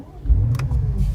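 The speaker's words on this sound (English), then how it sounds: "We'll go ahead and start the engine." A BMW M5 engine fires up with a quick starter crank and then catches in a short, loud burst. It is heard up close from inside the car.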